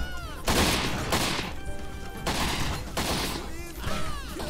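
Rapid, loud gunfire in the video game Postal 3, coming in repeated dense bursts with short gaps and bright ringing echoes in between.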